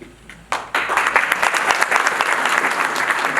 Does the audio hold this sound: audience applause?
yes